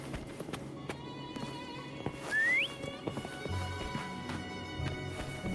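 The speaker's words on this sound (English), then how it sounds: "Try whistling." A player character in the video game Wuthering Waves gives a short rising whistle, a single clear note about half a second long, over game background music and the clip-clop of hooves.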